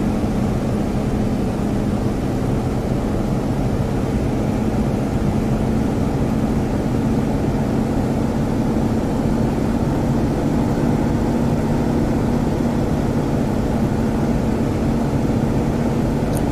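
A Fw 190 A-8 piston engine in DCS World drones steadily at low power, a constant rumbling hum with airy wind noise and no voices.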